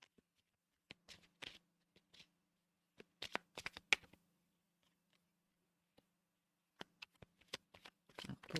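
Sparse, soft taps and slides of tarot cards being laid down on a table, isolated close clicks separated by quiet gaps, with a faint low hum underneath.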